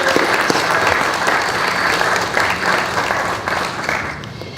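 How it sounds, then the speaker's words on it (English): A crowd gives warm applause at an outdoor pavilion ribbon-cutting, a dense steady clapping that gradually thins and fades toward the end, with a few faint voices mixed in. "Big round of applause to our Delaware State Parks."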